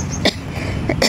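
Two short, sharp coughs from a person, close by and spaced about three-quarters of a second apart, over a low background murmur.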